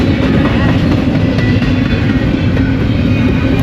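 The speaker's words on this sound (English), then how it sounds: "We are waiting for this train to pass." A train rumbles past nearby in Kananaskis Country in the Canadian Rockies, loud and continuous, with a dense low roar and faint rhythmic clatter of wheels on rails.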